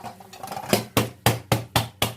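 Five sharp knocks on an inverted metal dhokla steaming tray, spaced at a quick, slightly uneven rhythm, close and fairly loud.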